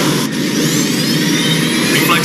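A cartoon aircraft squadron's jet engines roar in a loud, steady, close blast, with a rising whine building as the planes take off.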